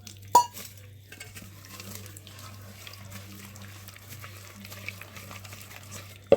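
Cauliflower fry mixture being stirred in a bowl with a utensil: quiet, wet scraping and clinking strokes throughout, close, over a low steady hum, with a sharper knock at the start and end.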